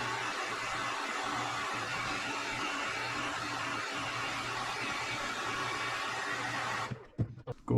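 A heat gun blows a steady, loud whooshing hum for several seconds while heat-setting airbrushed paint, then switches off, leaving a few faint clicks and handling noises.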